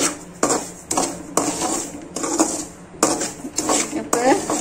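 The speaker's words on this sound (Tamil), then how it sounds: "இப்போ இந்த ரவாவை நல்லா பொன்னிறமாக வறுத்து எடுத்துக்கோங்க." Semolina (rava) dry-roasting in a metal pan for carrot kesari, with a utensil scraping and clattering against the pan in repeated close strokes of roughly one per second.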